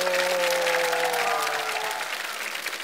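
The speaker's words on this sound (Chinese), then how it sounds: "掌声在哪里？" A studio audience at a Chinese roast comedy show bursts into dense, steady applause that fills the room for the full stretch, with a faint sustained tone running underneath.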